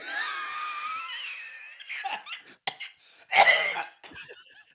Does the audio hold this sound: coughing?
yes